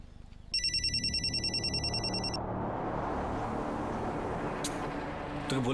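A telephone bell rings out in a repeated electronic trill for about two seconds, loud and close, over a busy street with steady traffic rumble and a passing vehicle.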